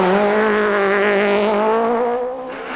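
A Suzuki rally car screams at high revs on a quarry gravel stage of the 2005 Rallye Açores, a loud, close, sustained engine howl whose pitch rises and wavers, then fades slightly at the end.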